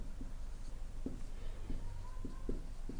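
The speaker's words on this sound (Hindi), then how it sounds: "चलिए मैं परिभाषा लिख दे रहा हूं" Pen or chalk writes out a definition by hand during a physics lesson on resistance, with scratchy strokes in an uneven rhythm over a steady room hum and no speech.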